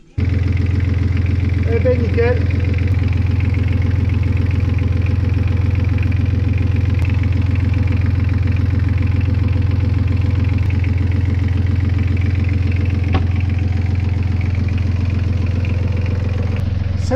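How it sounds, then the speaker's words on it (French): A Yanmar 3YM30 marine diesel engine runs steadily after a service, a close, loud, even low drone throughout, with a brief spoken remark near the start. "Allez, on va faire tourner le moteur."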